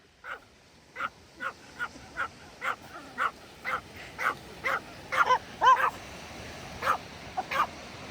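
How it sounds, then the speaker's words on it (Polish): A dog barks repeatedly indoors in a steady series of about fifteen short, sharp barks, some doubled, at close range and moderately loud. "Jeśli się ktoś zastanawiał, czy pan szczeka, to szczeka"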